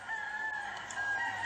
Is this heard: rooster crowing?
yes